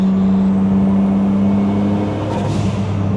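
Turbocharged Honda NSX engine making about 500 horsepower, a steady loud drone with a hum and whir of turbo spool, shifting briefly around the middle and then carrying on, heard from close by inside the car.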